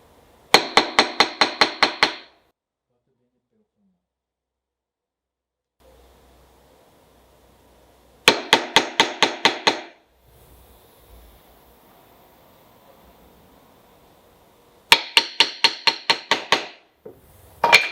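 A chisel is tapped into wood to mark a line, heard as three separated bursts of about seven quick sharp strikes each, with quiet handling noise in between.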